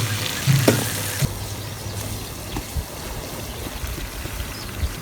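Salt and red chili powder sizzling in a pan for Karachi biryani, cooked outdoors in a village kitchen, a faint steady frying hiss with a few soft clinks and stirring knocks, no talk.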